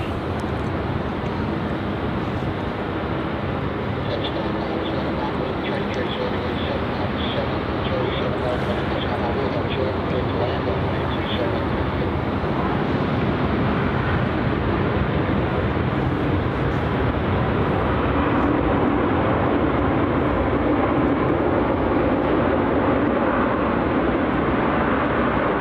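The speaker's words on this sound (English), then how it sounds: "And here's that 737 making a lovely arrival here on runway 34." A Boeing 737 landing on runway 34 at Melbourne Airport in Australia, a steady broad jet roar that holds loud and constant throughout, swelling slightly toward the end.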